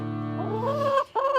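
A chicken clucks up close and loudly, a drawn-out tonal call followed by a short second cluck, with no talking.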